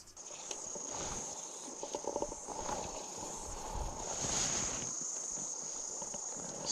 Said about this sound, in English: I can hear cicadas.